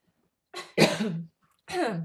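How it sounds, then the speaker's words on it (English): A man coughs three times, close and fairly loud: a short cough, then a heavier rasping one, a pause, and a final throaty cough, with no other sound between them. "Cough again."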